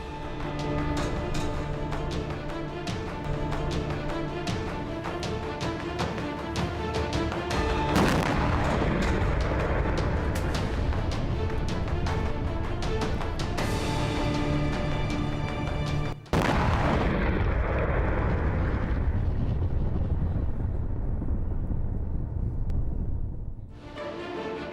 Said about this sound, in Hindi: ये देखिए कैसे दुश्मन देशों के टैंक पर हमले किए जा रहे हैं।